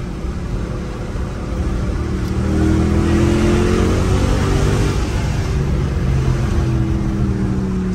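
A Mercedes C63 engine revs, a deep, loud rumble that swells and holds at a steady high level for several seconds, close by and with nobody talking.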